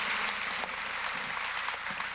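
Faint, steady round of audience applause for a Board of Education at a community gathering, a dense even patter heard from a distance.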